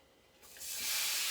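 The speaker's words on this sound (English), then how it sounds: "Now I'm going to throw it right into the frying pan." A sudden loud hiss swells up and holds steady as crumbled ground meat hits a hot frying pan and starts sizzling close to the microphone.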